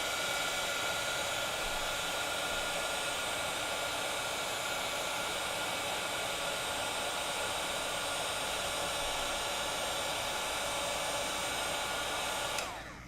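A heat embossing tool blows hot air in a steady, loud, unbroken whoosh that runs for about thirteen seconds and then cuts off right at the end.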